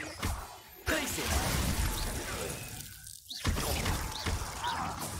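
A Glacius freezing spell in the video game Hogwarts Legacy bursts into a dense, crackling icy shatter. Sustained crunching and glassy breaking textures fill several seconds, with a brief dip midway before another loud burst, heard close and loud.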